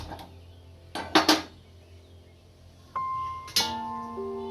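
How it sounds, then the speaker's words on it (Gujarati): A griddle pan is set down on a gas stove among clattering utensils: a couple of sharp metallic clanks, a quiet pause, then more clinks that leave a lingering ring. No one speaks. "ગેસ ઉપર તવલું મૂક્યું છે અને ગેસ ચાલુ કરી દઈશું"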